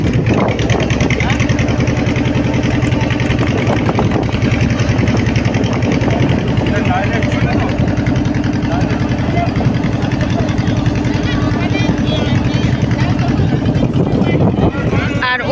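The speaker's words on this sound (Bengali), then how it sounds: "নৌকাটা ছেড়ে দিয়েছে" A crowded passenger ferry near Gosaba pulls away, its engine a loud, steady low drone throbbing without pause throughout, with voices in the background.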